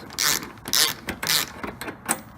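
A ratchet wrench clicks in several short, evenly spaced bursts while backing out a headlight bolt on a Nissan 350Z, close and distinct with no speech.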